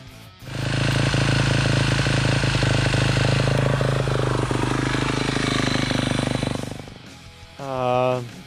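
Motorcycle engine running steadily at high idle, a loud continuous buzzing drone that holds for several seconds, then drops away before a brief rev near the end.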